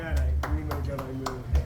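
A congregation claps in quick, steady bursts about twice a second at a Hebrew Israelite street preaching gathering, the sharp hand claps rising over a voice and crowd murmur.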